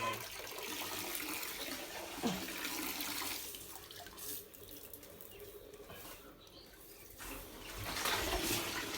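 Water running steadily from an opened tap, a continuous close hiss and splash lasting several seconds with slight changes in flow.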